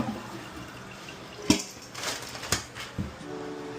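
A toilet tank is flushed during a toilet repair: a steady rush of water at moderate level, punctuated by a few sharp clunks and splashes, with no talk.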